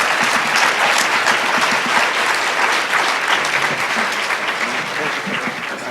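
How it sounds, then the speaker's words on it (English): Sustained audience applause for a panel at a high-tech jobs summit, dense steady clapping filling the room at a loud level throughout, tapering slightly at the end. "A round of applause to our panelists here."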